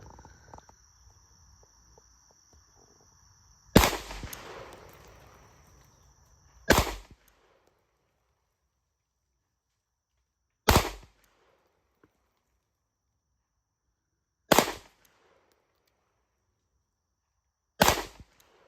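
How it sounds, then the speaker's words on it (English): Glock 45 pistol shots at an outdoor range from about 12 yards, five sharp loud reports spaced roughly three to four seconds apart, each with a short ringing decay and quiet gaps between. "We're shooting at about 12 yards."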